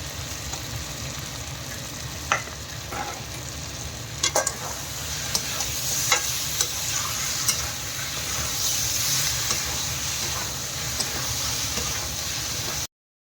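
Green chillies and tomato sautéed in a pan for a cauliflower and potato curry, a continuous close sizzle with scattered spoon scrapes and clinks throughout, no voices.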